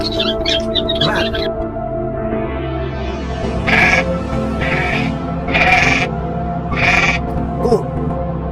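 A goat bleats four or five times in short, loud, wavering calls spaced about a second apart, following a brief spoken word at the start.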